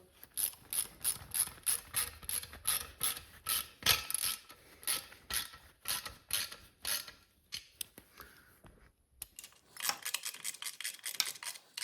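A ratchet snugs up exhaust bolts on a wrecked Harley Sportster with a Cobra 2-into-1 system, giving quick rhythmic clicking strokes up close, a brief pause, then another run of rapid clicks.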